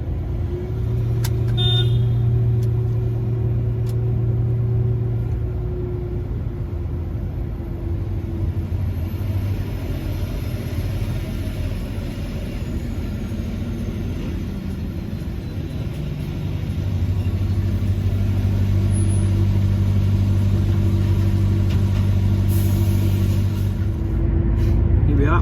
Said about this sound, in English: Inside the tunnel, just starting our convoy through with the escort up in front.